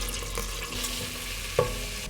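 Butter, sugar and spices frying in a pan, giving a steady close sizzle with a brief clink of a utensil near the end.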